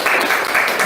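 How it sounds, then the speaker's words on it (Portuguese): A church audience breaks into a short burst of loud applause during an evening prayer service, a close, dense clatter of many hands lasting under a second. "Salva de palmas para esse pessoal."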